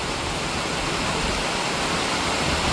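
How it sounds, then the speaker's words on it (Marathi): Heavy monsoon rain pours steadily outdoors while runoff water gushes like a stream, a dense, continuous roar that stays loud and unbroken throughout with no voices. "लय पाऊस येतोय जबरदस्त जाम पाणी असले"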